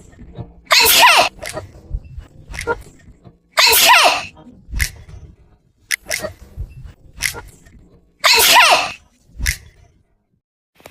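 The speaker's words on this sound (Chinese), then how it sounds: "想打个喷嚏。" A woman lets out wet allergy sneezes: three loud, sharp bursts spaced a few seconds apart, each with softer sniffs, breaths and small vocal sounds between them.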